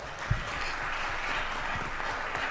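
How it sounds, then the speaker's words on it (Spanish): Audience applause for a panel of speakers and their moderator at a talk, a steady dense wash of clapping from a crowd, fairly even in loudness throughout with one sharper clap standing out near the start. "un aplauso a todos y a la moderadora"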